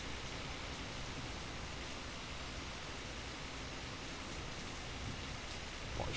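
Steady rain hisses in the My Summer Car driving game, a continuous even wash of noise that is fairly faint, with no talk over it.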